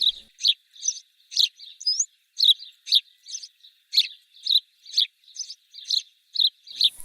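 Sparrow chirping played in a preschool music-class bird-guessing game: a steady run of about fifteen short, bright chirps in quick, even rhythm, with nothing else underneath.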